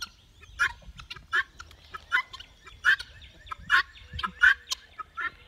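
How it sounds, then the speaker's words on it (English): A mother guinea fowl strolls with four tiny keets outdoors, giving repeated harsh, rhythmic calls at a steady pace, close and moderately loud, with faint background rustle. "These are guinea fowl"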